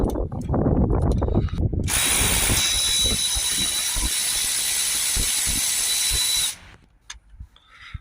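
A power tool with a ratcheting action whirs loudly and continuously for several seconds, undoing the alternator bolts on a 2.6 Ford Focus 1.6 TDCi diesel. It then stops, leaving faint clicks and handling noises.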